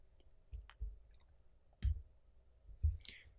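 Mouse buttons clicking a few times while browsing a website, sharp close clicks spaced out with pauses between, no talking.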